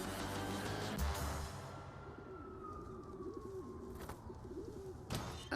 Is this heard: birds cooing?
yes